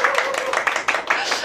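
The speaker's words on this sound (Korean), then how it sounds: "박수 한번 나와야 되지 않습니까?" Audience at a guest speech applauds in a short, dense burst of clapping that continues steadily through the moment, fairly close and moderately loud.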